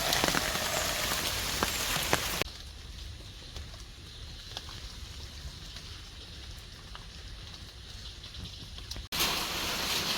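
Monsoon rain pours steadily on a house and garden in coastal Karnataka, a dense even hiss of drops that drops to a softer, quieter patter midway before swelling back to a heavy downpour.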